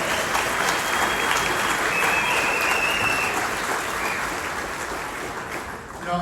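An audience gives a sustained, loud round of applause for a speaker's wife: dense, continuous clapping from a large crowd that fades slightly toward the end.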